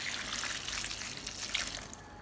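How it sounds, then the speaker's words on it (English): Water pours into a bowl of green beans that has been dosed with salt and baking soda, a soft continuous trickle and splash, quiet and close, with no voices. "Pour in enough water to fully cover the beans."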